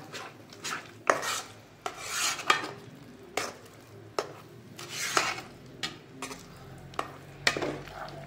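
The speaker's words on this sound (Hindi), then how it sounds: "आपको हलवा लगातार चलाना है नहीं तो ये नीचे चिपक जाएगा" Mung dal halwa is stirred continuously in a pan with ghee, making close scraping and soft squishing strokes in an irregular rhythm, with a spoon knocking against the metal and a faint sizzle underneath.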